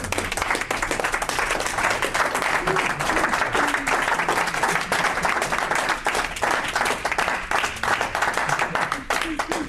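A church congregation breaks into sustained, dense applause and clapping that stays loud and steady throughout, with some voices mixed into the crowd.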